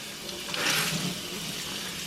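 Cold tap water runs in a steady, even rush with no pauses, a close and fairly quiet flow that swells slightly midway.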